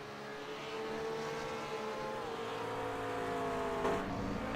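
Onboard engine note of Morrison's GT3 race car, a steady high-pitched drone that holds pitch, dips briefly through a shift, then climbs again, close and fairly even under faint wind.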